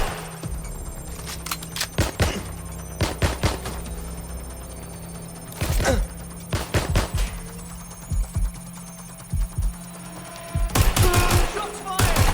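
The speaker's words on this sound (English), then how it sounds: "Shots fired! They're wounded!" Gunfire in the video game Watch Dogs Legion: separate loud bursts of rapid shots, close and sharp, with pauses between volleys over a steady electronic hum and a ringing tone.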